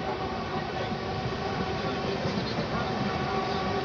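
Seemanchal Express pulling out of the small Dildarnagar station on the Delhi–Howrah main line: a steady, broad rumble and rolling rattle of coaches holds evenly at close range for the whole stretch, with no voices.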